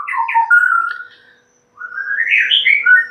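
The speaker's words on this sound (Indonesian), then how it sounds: "Di layar kaca teman ini saya menghadirkan murai batu yang mandinya itu ketika di lapangan" A white-rumped shama (murai batu) sings close and clear in two bright, fluting whistled phrases separated by a short pause, with no other noise around.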